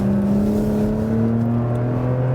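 A Porsche Macan GTS SUV's 3.0 V6 engine holds a smooth, steady drone at low speed from inside the cabin, its pitch rising slightly over the stretch.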